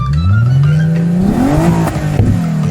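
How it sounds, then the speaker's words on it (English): A cartoon race car engine revs up, its pitch climbing and then dropping back, loud and close with no talk over it. "It was a cool cat race car, revving for a fast,"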